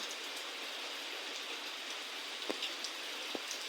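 Heavy monsoon rain falls steadily in a continuous dense hiss, with a few faint drips or knocks standing out toward the end, no voices.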